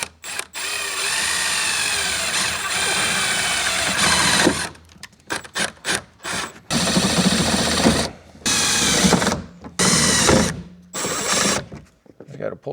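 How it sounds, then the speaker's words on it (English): A power drill drives 5/16 self-tapping screws into a metal door frame of a Duramax Silverado, with a long steady whirring run followed by several short stop-start bursts, close and loud, while someone talks in between. "going to use a set of self-tappers in the corners to go into the metal frame"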